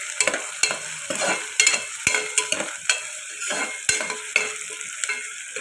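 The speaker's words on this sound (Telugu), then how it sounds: "ఇలా ఫ్రై అవుతుంది కదండి ఉల్లిపాయలు." Onions and curry leaves fry and get stirred in a pan, with a steady sizzle broken by repeated scraping strokes of a spoon, close and fairly loud, with no talking.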